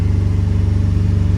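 A 1975 International 200 pickup engine, found sitting in a field, runs steadily with the throttle held open, giving a loud, even, throbbing drone close to the microphone with no talking.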